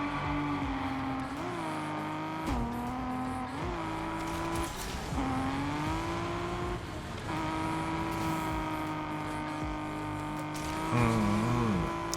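Racing car engines in the mobile game Need for Speed Mobile whine and rev continuously, pitch shifting with gear changes and a brief squeal near the end, steady and fairly close.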